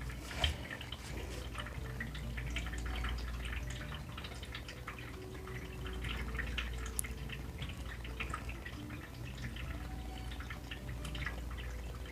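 Faint water sounds from a cup of painting water beside a metallic watercolor sheet, soft drips and small liquid movements scattered over a quiet background, with no speech.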